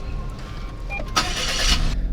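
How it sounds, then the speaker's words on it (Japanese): A 2025 Daihatsu Atrai kei camper van's engine cranks and catches, a short, loud starter burst that settles into a steady idle rumble, heard close with no talking. "で一旦エンジンつけます。"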